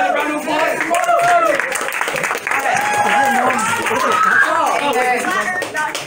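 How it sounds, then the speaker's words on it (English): A crowd applauds with steady clapping, mixed with scattered cheers and voices throughout, at a middle school club meeting. "Let's just get another round of applause."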